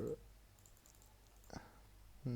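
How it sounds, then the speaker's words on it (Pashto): A computer mouse gives a few soft, quick clicks, double and triple, faint and close in a quiet room, with brief voice fragments at the edges. "دې باندې ټریپل کلیک کوم مې ګروپ، دې باندې ډبل کلیک مې ګروپ"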